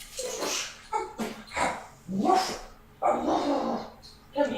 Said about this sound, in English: there's one loud barking dog.